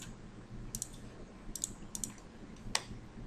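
Quiet computer keyboard being pressed for a Ctrl Shift Y shortcut, a handful of soft, sharp key clicks spaced irregularly over faint room hiss.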